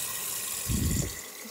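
Tap water gushes briefly into a sink while potatoes are washed, a short close burst of running water over a steady background hiss.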